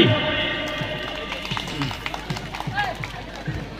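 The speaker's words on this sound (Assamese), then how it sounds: "অতি সুন্দৰ একেলগে হাত চাপৰি" Audience at a Bihu dance festival clapping together in a steady rhythm, the claps landing as repeated sharp beats over a busy crowd and voices.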